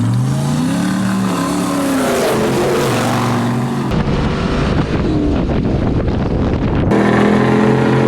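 Cars accelerating in a drag race at the Kincrome Invitational, engines revving and rising in pitch with heavy wind buffeting over the microphone, loud and continuous with a brief change in tone midway.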